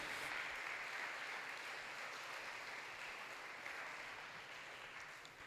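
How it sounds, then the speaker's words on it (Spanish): A church congregation claps for the King of Kings in a sustained, dense round of applause that stays steady and gradually eases toward the end, with no talk over it. "Dele ese aplauso al Rey de Reyes, por favor."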